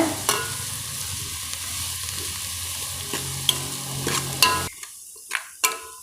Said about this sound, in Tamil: நாம் இதில் கருவேப்பிலையை சேர்த்துடலாம் கூடவே நாம் பச்சை மிளகாவும் சேர்த்துடலாங்க எல்லாத்தையும் நல்லா வதக்கிக்கோங்க